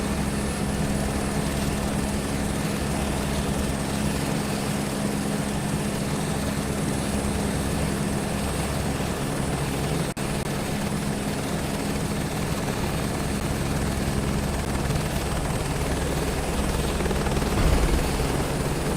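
A helicopter in Microsoft Flight Simulator 2024 drones steadily with a loud, constant rotor and engine roar as it descends and sets down in the Canadian wilderness, the thrum swelling slightly near the end.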